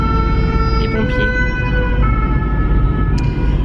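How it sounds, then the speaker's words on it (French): A French fire engine's siren wails loudly and close, heard from inside a car over steady low road rumble, its tone shifting pitch as it passes. "Les pompiers."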